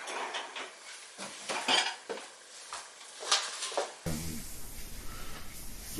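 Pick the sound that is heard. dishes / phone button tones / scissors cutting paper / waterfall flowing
dishes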